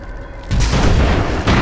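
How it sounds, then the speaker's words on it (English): Big suspendium cannons fire in the airship battle game Airships: Conquer the Skies, a loud, deep booming blast that bursts in and sustains a rumbling roar, with a second thump near the end. "then here comes our big suspendium cannons"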